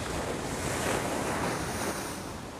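A cold, rough sea with waves crashing, giving a steady, loud, broadband roar of surf mixed with wind buffeting the microphone, continuous throughout, with no talking.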